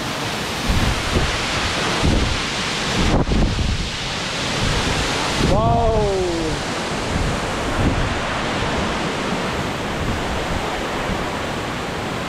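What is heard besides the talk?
waterfall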